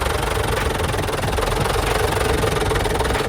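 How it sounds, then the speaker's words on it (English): The engine of a Routemaster bus idles, hunting slightly as it runs. It makes a close, steady, low throbbing rumble with a fine rhythmic pulse, and no one speaks. "The engine also sounds good, although it's hunting a little bit."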